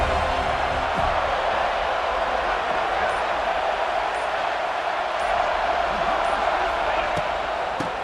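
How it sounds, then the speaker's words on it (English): A stadium crowd roars steadily in a college football video game, Alabama at Florida State, a dense, loud, continuous wash of cheering and noise throughout. "This crowd ready to make its presence known."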